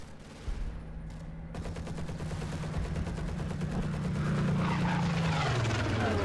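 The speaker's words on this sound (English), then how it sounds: "There's a plane flying around, so let's hope it doesn't strafe anything." A propeller plane drones overhead in the Combat Mission Battle for Normandy war game, a low engine hum swelling louder as it passes, with rapid rattling gunfire joining from the middle on and strengthening toward the end.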